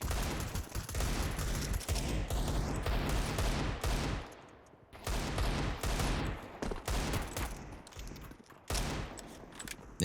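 Counter-Strike 2 gunfire, dense bursts of rapid automatic shots in loud clusters broken by brief pauses, with no talking.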